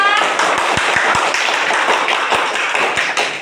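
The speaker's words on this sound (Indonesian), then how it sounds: "Kasih tepuk tangan untuk Gria." Children in a classroom clap their hands together for several seconds, a dense, close, fairly loud patter with a few sharper taps standing out, and no voices over it.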